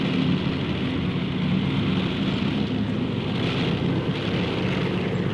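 An airplane engine drones in flight with a steady, dense low roar that stays constant and close throughout, with no voices heard.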